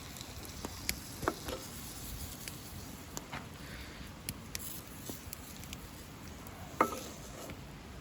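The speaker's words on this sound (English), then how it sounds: "Garlic butter is nice and sizzling, so let's add our" Snails sizzle in hot garlic butter in a pan, a soft, steady crackle with scattered small pops and spits, faint and close with no voices.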